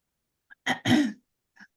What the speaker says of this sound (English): it makes me clear my throat a lot